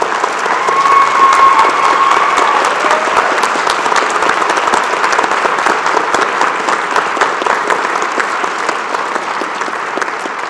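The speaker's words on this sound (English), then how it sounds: "Graduates, a round of applause for them." Sustained applause from a large graduation audience honoring the graduates' family and friends at a fall convocation ceremony, steady dense clapping throughout with a faint tone briefly above it.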